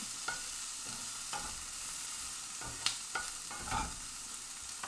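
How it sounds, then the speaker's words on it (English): A spoon stirs a pot of simmering beans with a few scraping strokes and a soft clatter. A faint sizzle runs underneath. The sound is fairly quiet and close, with no talking. "Stir my beans."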